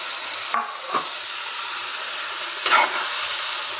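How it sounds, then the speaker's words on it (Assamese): Chicken, first boiled in hot water, sizzles steadily in a hot pan with a few sharp scrapes of stirring, close and continuous with no talk. "এতিয়া মই চিকেনখিনি ঢালি দিম এতিয়া ভাজি থোৱা"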